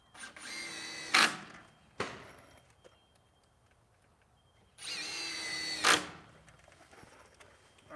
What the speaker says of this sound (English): I gotta throw a couple more screws in here.